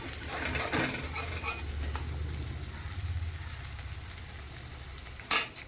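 Meat sizzles and fries steadily in a pan, a continuous crackling hiss with low bubbling underneath, and a sharp metallic clink near the end.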